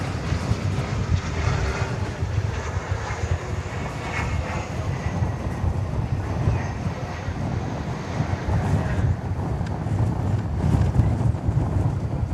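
A Mesa Airlines airliner in United Express service at DFW Airport gives a continuous, fairly loud engine roar with a heavy low rumble and some wind buffeting for about twelve seconds, with no talk.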